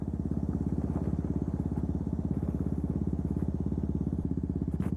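KTM Duke 200 motorcycle ridden over gravel, its steady mid-pitched single-cylinder engine pulsing close and loud throughout, with faint crunching and clatter from the tires on loose stones beneath.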